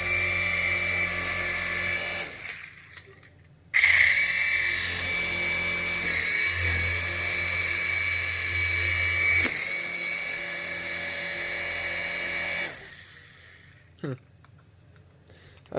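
A cheap $5 RC toy helicopter's small electric motor whirs in a high, steady whine, cutting out briefly twice and stopping near the end, heard close with low background noise.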